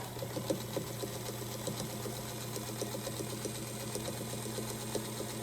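A sewing machine stitches Christmas quilt pieces, running with a steady, fast mechanical chatter and a constant hum, close and alone without talk.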